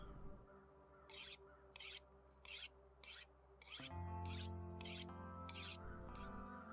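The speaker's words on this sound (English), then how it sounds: "we go back now and sharpen up this axe" Repeated rasping strokes of a whetstone drawn along an axe blade in The Long Dark, eight or nine evenly spaced scrapes over a steady ambient game drone, with no talking.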